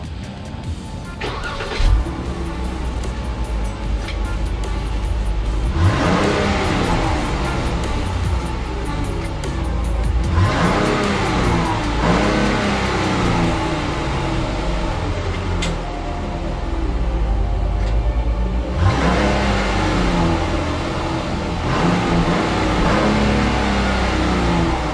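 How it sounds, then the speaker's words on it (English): Exhaust of a Jeep Grand Cherokee WK2 Overland rumbles at idle and is revved several times in repeated swells, loud and close, with no talking. "Let's get a nice clip of the exhaust."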